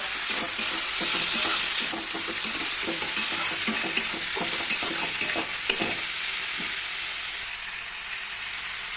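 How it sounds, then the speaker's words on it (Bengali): Turmeric and Kashmiri chilli fry in hot oil with a steady bright sizzle, broken by scattered stirring clicks and scrapes of a spoon in the pan, close and continuous with no voices. "এই যেমন তোমার দিচ্ছি হলুদ, কাশ্মীরি লঙ্কা"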